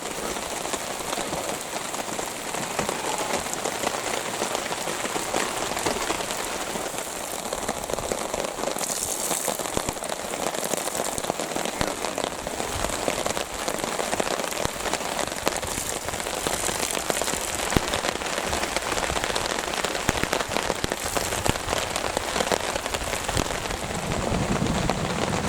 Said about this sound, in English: The heavier rain started right after we got here.